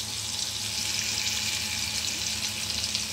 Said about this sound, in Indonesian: Sama tempenya sudah digoreng.